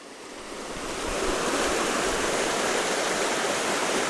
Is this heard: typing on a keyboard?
no